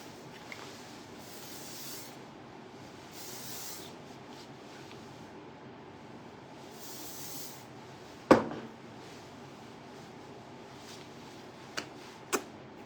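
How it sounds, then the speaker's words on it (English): Hairspray sprayed onto hair in three short hissing bursts, fairly close, followed by faint rustling and a couple of sharp clicks in a quiet room. "Add some little hairspray to it."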